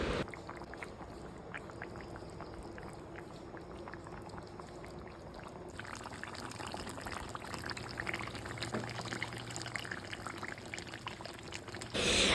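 Hot water poured into mutton kosha in a pan, a continuous low bubbling and liquid rush that carries on steadily and gets slightly fuller partway through, with no talking.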